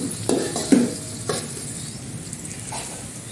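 A spoon stirs a salted, spiced mixture in a pan, with a few clinks and scrapes against the metal over a low sizzle.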